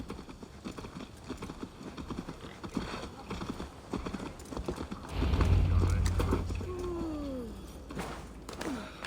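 Hooves clip-clop from a horse in the Assassin's Creed Valhalla video game, a run of close rhythmic knocks joined midway by a loud low rumble and a whinny, with game speech over it.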